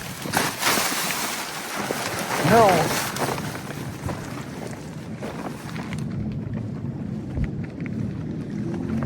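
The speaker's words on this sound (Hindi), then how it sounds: "दूसरी तरफ बहुत ही तेज तूफान आ रहा है" A thunderstorm approaches over the Indus River in northern Pakistan, heard as a broad, steady rumble of wind and distant thunder that swells early, then settles into a continuous roar.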